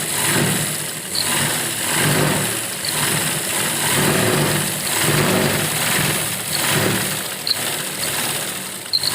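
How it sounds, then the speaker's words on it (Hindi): A sewing machine stitching the side seam of a kurti being altered at home gives a continuous motor whir that swells and eases gently, loud and near, with no speech. "और इसी तरह हम अपनी दूसरी साइड सिलाई लगाएंगे"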